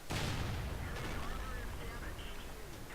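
A World of Tanks tank gun fires at a KV-1S, a single loud booming shot that opens and then rolls into a long rumbling tail, with a voice talking faintly underneath.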